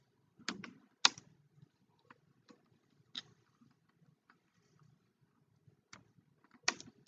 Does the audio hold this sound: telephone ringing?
no